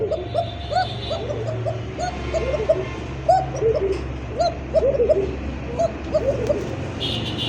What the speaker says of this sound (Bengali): অরিজিনাল কোকা কবুতর দেখেন, ডাক তো শুনলেনি।